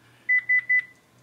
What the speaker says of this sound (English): for some reason, my phone's beeping